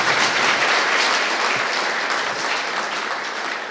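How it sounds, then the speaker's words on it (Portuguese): Audience applause at a Renault-stand talk on fleet and mobility management, a dense continuous wash of clapping that stays loud throughout before easing slightly at the end. "Uma salva de palmas"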